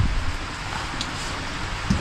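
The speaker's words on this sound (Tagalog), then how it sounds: "At hindi na natigil yung ulan." Steady, persistent morning rain falls in an area already flooded, making an even, unbroken hiss with no talking.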